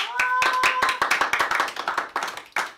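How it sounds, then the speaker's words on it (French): A small group of friends at a home aperitif party claps by hand in a quick, uneven burst of sharp claps for a few seconds, with a brief vocal tone at the start. "On peut applaudir"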